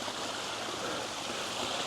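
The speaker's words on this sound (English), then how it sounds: "Waterfall with 3 tiers coming off the back." A three-tier garden waterfall pours continuously, a close, steady splashing rush of water with no voices.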